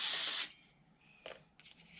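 Carburetor cleaner sprays from an aerosol can onto a Stihl MS 193 C chainsaw with a rough-running carburetor, one loud close hiss for half a second, then quieter short bursts.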